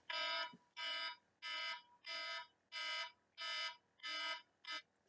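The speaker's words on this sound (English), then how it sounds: "Sorry, I forgot that my alarm goes off." An alarm goes off in repeated bursts, eight harsh buzzing beeps in a steady rhythm with short gaps, fairly distant and alone with no talking.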